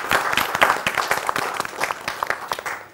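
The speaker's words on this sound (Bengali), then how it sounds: "তাহলে কি ওর জন্য একটা করতালি হতে পারে না?" Studio audience at a Bangladeshi ladies' quiz game show applauds after a hula hoop dance is mentioned, a dense, steady burst of clapping with sharp individual claps standing out over three seconds.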